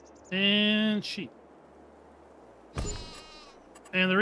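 Sheep in a farm simulator video game bleat twice, each call loud, close and about a second long, with a short quiet gap between and a third bleat starting at the end.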